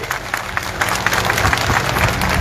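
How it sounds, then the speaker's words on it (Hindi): A large audience at a Buddhist convention in Gorakhpur claps in welcome: loud, dense and continuous applause with many overlapping hands that swells slightly toward the end, with no speech over it. "उनके लिए एक बार ताली बजा के स्वागत कीजिए।"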